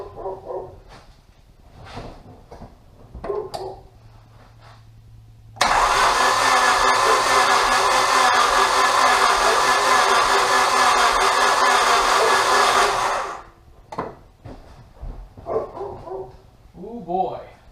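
A 1997 Honda Civic engine with a misfire cranks during a compression test on cylinder 4. The loud, steady starter churn lasts about seven seconds, with people talking before and after it and a dog barking in the background.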